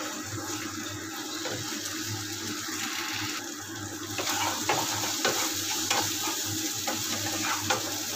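An egg and vegetables fry together in a pan for chow mein, giving a steady close sizzle with watery crackle and occasional scraping stirs that get a little louder partway through. Nobody speaks.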